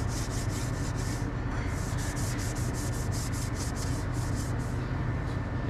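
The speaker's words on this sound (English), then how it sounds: "just wanted to show you what an SOS pad will do" An SOS steel wool pad scrubbed briskly over rusty metal, giving rapid repeated rasping strokes in a steady rhythm, close and loud with no talking.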